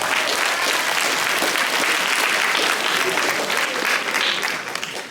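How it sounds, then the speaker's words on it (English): At a middle school awards day celebration in Memphis, an audience claps for Mr. Gordon in a loud, dense, continuous round of applause that tapers off slightly at the end. "Give Mr. Gordon another round of applause."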